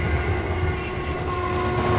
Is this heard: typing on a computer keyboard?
no